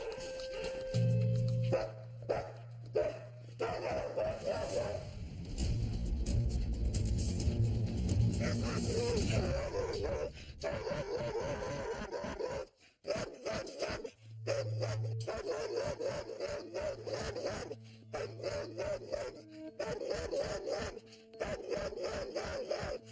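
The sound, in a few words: dog Rocky barking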